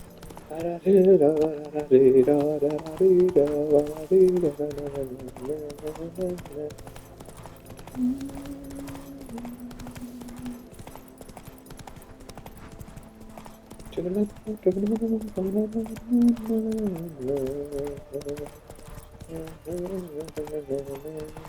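Hooves of the horse Roach clip-clop in a steady rhythm in the video game The Witcher 3, continuing under a man's speech and background music.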